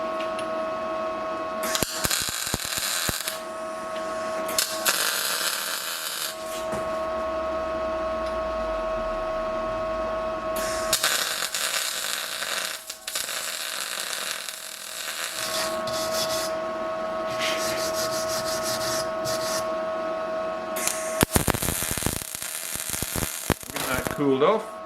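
Tack welding a caster plate onto a homemade autobody cart, a steady crackling electric buzz that runs in several long stretches separated by brief pauses.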